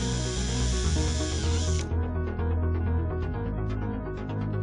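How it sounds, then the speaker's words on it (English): A power drill bores holes in an Equitone facade panel: a harsh high whir for about two seconds, then the motor keeps spinning with lighter, scattered cutting sounds. "The panel must be pre-drilled with one-size holes."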